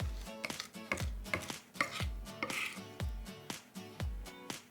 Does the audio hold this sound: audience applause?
no